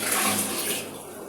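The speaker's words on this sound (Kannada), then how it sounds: "ಬಕೆಟ್ ಚೆಲ್ಲು ನೀರನ್ನ" Water pours out of a bucket in a bathroom, a loud, steady rushing splash that holds for about a second and then eases off slightly.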